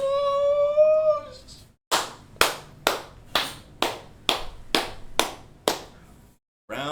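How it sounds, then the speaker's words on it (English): Around nine sharp, evenly spaced claps ring out in a slow, steady rhythm as a round of applause. They come close and alone, after a brief sustained tonal sound at the start. "Round of applause, everybody."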